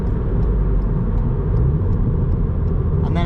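A Ford Fiesta ST Mk8 rounds a roundabout with its stability control switched off, giving a steady, loud engine and road rumble from inside the cabin, constant throughout.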